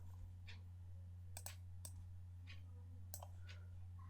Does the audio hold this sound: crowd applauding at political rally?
no